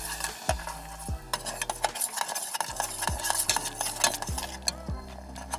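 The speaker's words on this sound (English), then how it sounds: "we're going to stir" A spoon stirs a cornstarch and vanilla mixture in a pot over medium heat near the boil, giving repeated scraping strokes against the pot at a steady rhythm with a soft bubbling hiss underneath and no talking.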